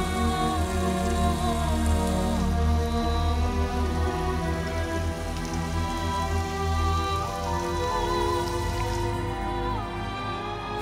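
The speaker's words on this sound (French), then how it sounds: "Il fait nuit, il pleut" Steady heavy rain falls at night on a film set, a dense continuous patter filling the whole stretch at even loudness, with no voices.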